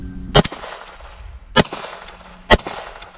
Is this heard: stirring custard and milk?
no